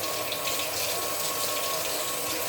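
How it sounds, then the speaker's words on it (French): Tap water runs steadily into a sink as hands are washed under it, a close, continuous splashing rush with no speech, in a home kitchen while baking. "je me lave les mains"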